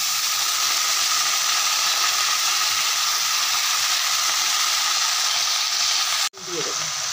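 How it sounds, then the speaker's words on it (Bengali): Kalmi greens going into a pan of fried onion, a loud continuous sizzle and hiss close by that cuts off abruptly near the end, with no voices. "পেঁয়াজটা ভাজা ভাজা হয়ে গেছে, এবার শাকগুলো দিয়ে দেব।"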